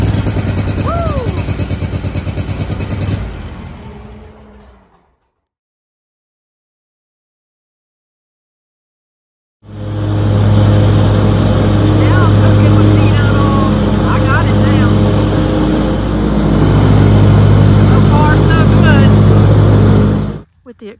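A lawnmower engine cranks and runs loud and close, with a short roar, then a few seconds of silence, then a steady idling drone with a pulsing low rumble lasting about ten seconds.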